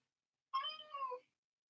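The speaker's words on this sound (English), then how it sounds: "Matthew, feed your cat" A single drawn-out cat meow, clear and close, lasting under a second against silence.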